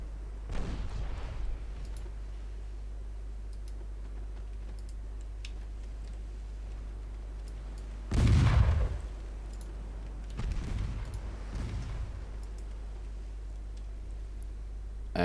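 Naval guns fire on a destroyer during a sea battle in Ultimate Admiral Dreadnoughts: one heavy booming salvo, then a second softer burst a couple of seconds later, over a steady low rumble of background noise.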